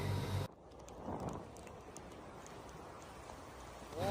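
A steady, dense hiss of heavy rain falls continuously during flooding in Enshi, Hubei, with a brief louder burst of noise at the very start and end.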